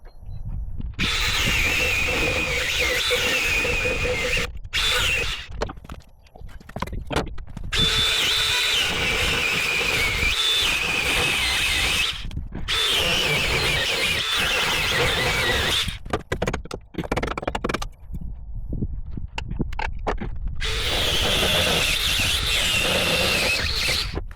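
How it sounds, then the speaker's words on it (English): A power cutting tool screeches through bolts on the brackets of a Land Rover Defender HCPU during a rebuild, loud and close in several long bursts separated by brief pauses. "get the brackets off, I'm just going to cut the bolts."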